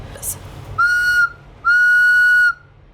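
Two steady, clear blasts from a wooden whistle, a short one followed by a longer one, loud and close with a breathy edge, after a brief click.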